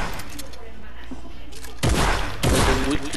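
Gunfire in Fortnite, two loud broadband bursts at close range, with quieter game ambience and faint activity before them.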